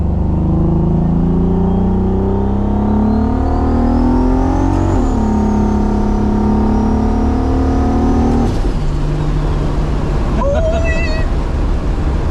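A Toyota Supra MK4 with a TH400 transmission accelerates at full throttle under boost, engine pitch climbing loudly through gears with a sharp shift break, then easing off as excited voices talk over it.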